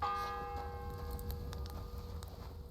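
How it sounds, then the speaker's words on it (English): A church bell in the medieval video game Kingdom Come Deliverance 2 tolls once, its resonant ringing tones sustaining and slowly fading beneath soft background ambience. "The fourth bell."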